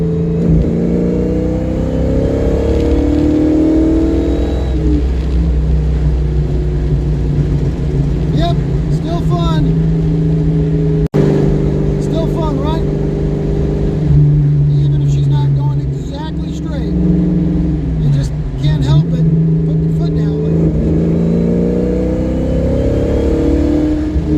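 A Foxbody Ford Mustang pulls hard on a test drive, its engine revving loudly and climbing through gears with rising pitch sweeps, heard from inside the car while people talk over it.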